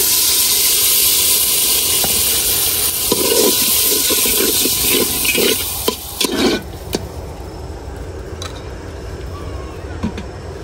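Loud hissing sizzle from a hot pan of snakehead fish that bursts up as a little water hits it, then settles into a quieter bubbling fry with a few clanks.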